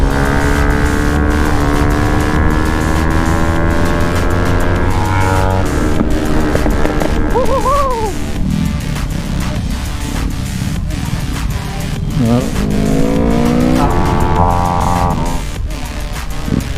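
A modified Yamaha R3 sport motorcycle engine revs loudly and close, its pitch climbing and falling through several throttle blips and sustained revs.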